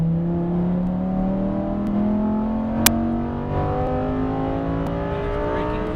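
Lamborghini Huracan Performante engine on a race track, a loud close drone rising steadily in pitch as it accelerates, with a single sharp click midway.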